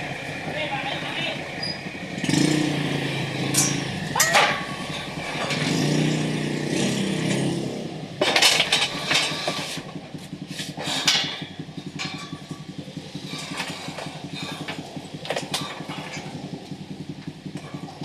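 A motorcycle engine runs and revs unevenly while being pushed inside, with clanks and knocks along the way, and people talk nearby over the mechanical noise.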